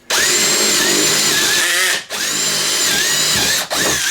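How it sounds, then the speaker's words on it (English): A Teccpo cordless drill with a brushed four-pole motor driving a 1/2-inch bit, loud and close, whining steadily in two long bursts with short drops in speed between them. "the drill has plenty of power to go through 1/2" material"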